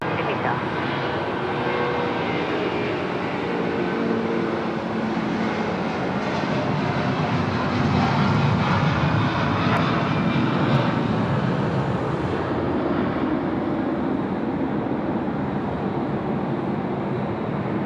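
An airliner lands at Sydney Airport at night, a loud continuous engine roar and rumble that swells and holds steady, with radio voices from air traffic control audible over it.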